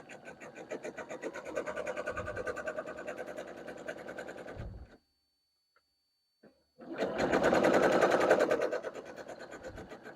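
A sewing machine sews a gathering stitch along fabric at about a quarter inch. Two close bursts of rapid, rattling stitching are separated by a near-silent pause, and a voice speaks briefly.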